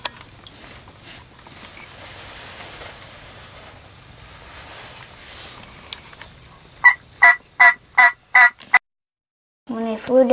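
Wild turkey gobbling during a hunt outdoors: a hushed, hissy stretch gives way to a run of five or six loud, rattling gobble bursts in quick succession, then a brief silence and one more gobble.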